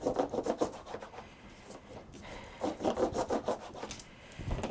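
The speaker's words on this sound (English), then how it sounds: "Let's burnish it." Paper is burnished for a scrapbook coffin album with a tool, giving rhythmic bursts of close, dry rubbing strokes separated by short pauses.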